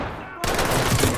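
Rapid gunfire erupts in a tactical police shooter game, a dense burst of shots starting abruptly after a quiet moment and continuing loudly, with a voice talking faintly underneath.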